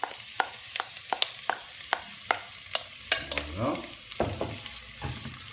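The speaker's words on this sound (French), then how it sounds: "Maintenant, je vais y mettre mes oignons à revenir." Onions sauté in melted butter in a pan for a beef goulash, a soft sizzle under a series of sharp utensil taps and stirring scrapes, with a brief spoken word.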